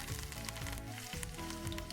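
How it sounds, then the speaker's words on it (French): Leek pieces frying in very hot oil in a small pan, a continuous bright sizzle and crackle close up, with no voices. "on va les plonger dans cette huile bien chaude"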